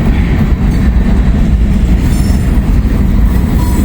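A freight train passing close by on an autumn afternoon, loud continuous rumble and roll of rail cars with metallic clatter and faint wheel squeal, steady throughout without voices.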